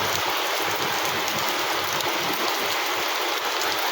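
Rain falling steadily during the first rain of the season, a dense, even hiss of drops on surfaces, fairly faint and constant with no voices.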